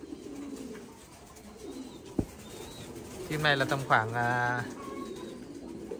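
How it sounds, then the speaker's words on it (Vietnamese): Thai Titan pigeons, young squabs raised for meat, coo in a loft in a short burst of throaty warbling close by, followed by someone speaking over them. "Đây là chim bồ câu ra ràng á"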